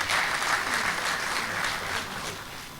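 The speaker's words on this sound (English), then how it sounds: "Can we give him a round of applause?" A graduation ceremony audience applauding an honoured guest, producing a continuous roomful of clapping that holds steady and then eases slightly toward the end.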